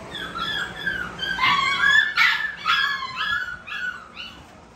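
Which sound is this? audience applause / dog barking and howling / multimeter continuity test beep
dog barking and howling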